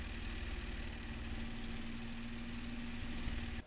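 A small LEGO Technic oscillating fan mechanism runs with a quiet, steady motorized whir and a faint mechanical hum, close by and alone, stopping abruptly at the end.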